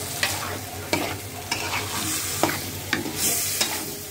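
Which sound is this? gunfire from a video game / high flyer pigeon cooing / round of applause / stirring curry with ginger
stirring curry with ginger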